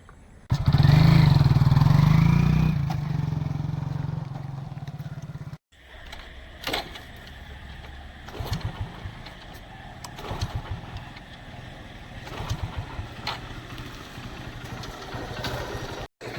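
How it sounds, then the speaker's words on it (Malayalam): A motorcycle engine runs loudly up close for several seconds, fades and then abruptly cuts out as it stalls, leaving quieter background noise with scattered knocks and rustling. "എന്താണ് വണ്ടിക്ക് പറ്റിയേ വണ്ടി പെട്ടെന്ന് ഓഫ് ആയിടാ"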